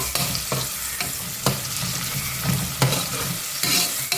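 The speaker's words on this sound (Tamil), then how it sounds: "வெங்காயம் நல்லா சிவந்து வரட்டும்" Onions frying in a pan, with a steady loud sizzle throughout. Close stirring strokes cut through it every second or so.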